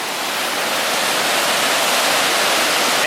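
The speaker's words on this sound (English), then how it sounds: "major attraction, which is the waterfall here. It's actually man-made." Man-made waterfall in Watertown, New York, beside an old power station structure, roaring as a steady, loud, dense rush of falling water with no break and no voices.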